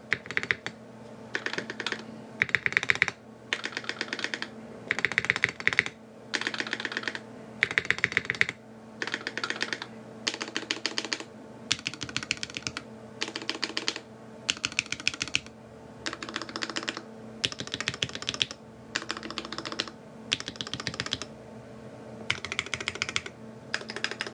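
Custom Viktus Deltablade mechanical keyboard typed on in steady bursts of clacking keystrokes with short pauses between runs, close and clear, with no talking.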